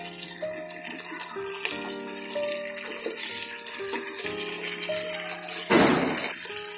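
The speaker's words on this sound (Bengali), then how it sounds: "আমি পানি দিয়ে দিচ্ছি 1 কাপ।" A cup of water is poured into a pan of spicy chicken roast, making a short splashing rush near the end over steady background music.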